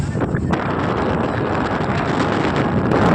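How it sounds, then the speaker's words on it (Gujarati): Wind buffets the microphone in a steady, rough roar, continuous and fairly loud, with faint fluttering gusts. "ફૂલ બહુ મસ્ત પવન આવે"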